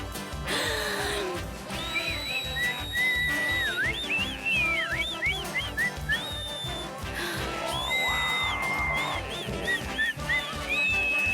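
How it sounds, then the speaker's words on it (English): Cartoon frog whistling continuously in a bright, warbling melody with sliding pitch, over a steady rhythmic backing score with a loud burst of noise at the start. "I was overindulging in whistling"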